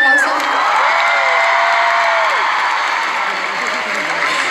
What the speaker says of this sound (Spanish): bajista, por favor, un fuerte aplauso